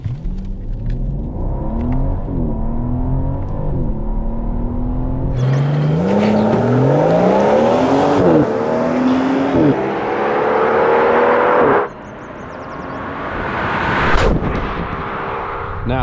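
A 602-horsepower BMW M760i V12 luxury sedan revs and accelerates hard, pitch climbing through several gear shifts of its 8-speed automatic before the roar drops away.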